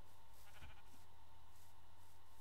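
A Minecraft sheep lets out a short, game-style bleat in a village scene. The sound is brief and moderately faint over steady background game sound.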